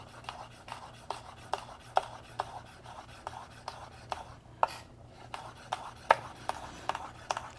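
A knife taps steadily on a cutting board, slicing vegetables for sesame noodles with tofu in a rapid, even rhythm of close, crisp chops over a quiet background hum.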